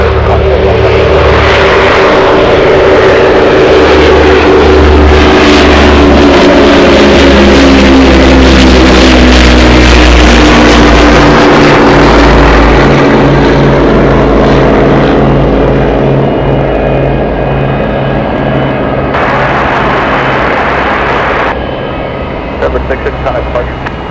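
A Boeing 747-200 taxiing across a runway at Anchorage airport, its jet engines roaring loud and near with a deep rumble and whine that slowly fades as it passes.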